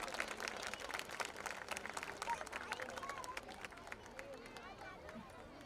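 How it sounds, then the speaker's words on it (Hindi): A crowd at a medical-team CPR awareness event applauds doctors as they come on stage. Dense, continuous clapping runs throughout at moderate volume, with some background chatter. "इनका ताली से स्वागत कीजिए।"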